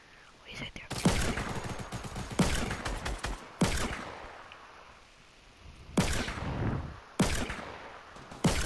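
Gunfire in the video game Fortnite, several loud sharp bursts of shots spaced out over a quieter background, with a player talking between them.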